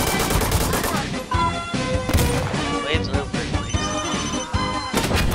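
Dense, oversaturated automatic gunfire suppressing a position in the tactical shooter Insurgency Sandstorm, loud sustained bursts with crashing impacts through the whole stretch, a voice briefly heard amid the shooting.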